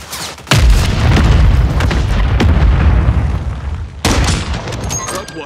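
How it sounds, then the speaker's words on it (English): A loud mortar strike explosion in the Call of Duty video game: a sudden heavy boom that rumbles on for several seconds, followed by a second sharp blast near the end. "Mortar strike inbound."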